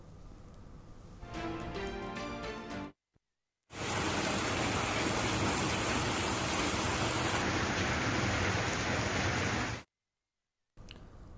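Heavy rain over Telangana pours down in a dense, even hiss for several seconds, preceded by a short stretch of other rumbling noise and cut off abruptly by silent gaps.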